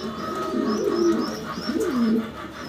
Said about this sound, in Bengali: খুবই অ্যাক্টিভ সুস্থ সবল প্রত্যেকটা কবুতর